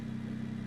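The truck engine in BeamNG.drive career mode runs with a brief, low, steady rumble, like a freshly started motor settling into idle, heard alone and fairly quietly.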